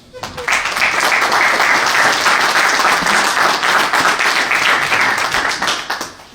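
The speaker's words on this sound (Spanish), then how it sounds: "no sin antes brindarle nuevamente un fuerte aplauso" Strong audience applause for a judge about to speak at a formal event, dense clapping that starts abruptly, holds steady and loud for several seconds, then tapers off.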